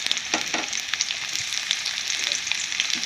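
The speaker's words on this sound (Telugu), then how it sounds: "పోపు దినుసులు వేసుకున్నాను కదా అవి చుట్టుపక్కల ఆడుతున్నాయి" Mustard seeds and other tempering spices sizzle and crackle in hot oil, a steady bright hiss dotted with small pops, close and continuous with no talking.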